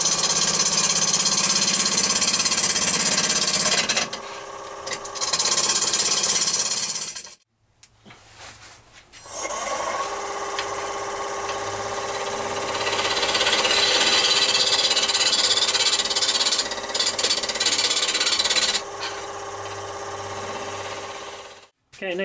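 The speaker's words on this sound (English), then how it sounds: "I tend to use a bowl gouge to do this kind of truing." A wood lathe spins a turning blank while a bowl gouge trues it, giving a loud, steady whirring hum with rough cutting chatter, broken by a brief pause and then a restart.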